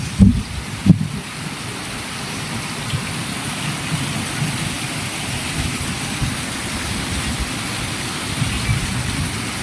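Heavy rain falls steadily during flooding, a dense continuous hiss with a couple of sharp knocks at the start and no talking.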